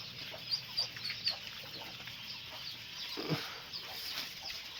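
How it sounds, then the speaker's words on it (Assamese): Burmese chickens cluck softly in a poultry yard, a few short, faint calls scattered over a quiet background hiss. "এইটো এটা বাৰ্মা মুৰ্গী"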